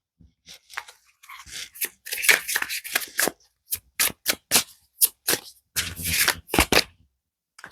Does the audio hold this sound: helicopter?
no